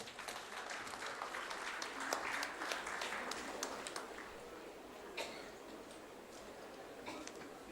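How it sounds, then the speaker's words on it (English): A gathering at the opening ceremony of a literature festival gives a warm round of applause to welcome a speaker, with crisp individual claps over a steady wash of clapping and faint voices beneath. "Let's please welcome him with a huge round of applause."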